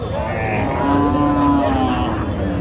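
Cattle, including cows, low loudly over a busy outdoor crowd at a cattle market, a long drawn moo rising and falling amid background chatter.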